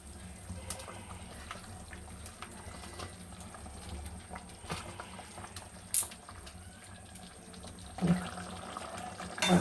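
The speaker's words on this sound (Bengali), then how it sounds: "এবার ঝোলটা ফুটলে মাছগুলো এবার এক এক করে তুলে দেবো।" Fish curry gravy (catla fish kalia) simmering in a pan, giving a low, steady watery bubbling with a few louder knocks and splashes near the end, and no talk.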